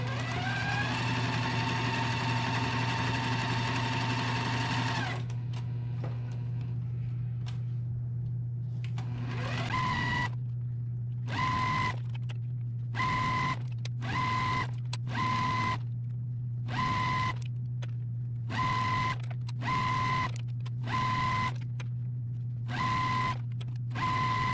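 Sewing machine stitching along each side of a diagonal line on quilting fabric, a long steady run first, then a rapid series of short, evenly spaced bursts over a constant low motor hum.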